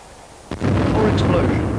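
A battlefield explosion from a 1980s British Army training film: after a quiet lead-in, a sudden loud blast swells into a sustained rumbling roar that carries on to the end.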